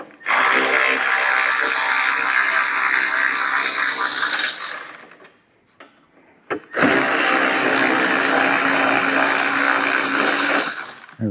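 A hand ratchet with a socket works on the strut nuts of a 2011-15 Ford Explorer, giving loud, steady buzzing clicks close by for several seconds, a short pause, then another long continuous run.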